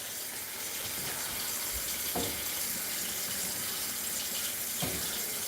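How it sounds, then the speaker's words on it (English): Water runs into a hot frying pan while salsa heats for migas, a steady rushing, hissing wash of sound throughout with a couple of faint knocks, no talking. "So if you're already doing a frying pan, add a little bit of water."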